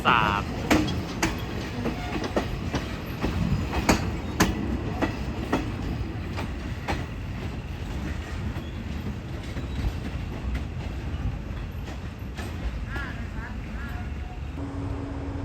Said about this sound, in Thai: ล้อ กระทบรางเพราะมากจริงๆนะครับ